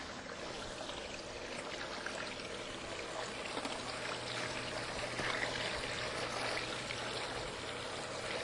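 Water pours steadily out of a lake water filter pipe, a continuous close rushing flow that holds even and unbroken throughout with no talk.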